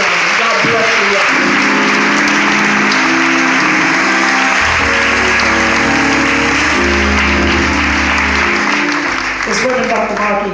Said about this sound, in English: give God a hand clap of praise for what God has done